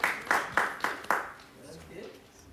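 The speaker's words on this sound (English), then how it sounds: "Can't you clap for yourself" A few people in a conference talk audience clap briefly, about five loud spaced claps in the first second or so, then quieter room sound with faint voices.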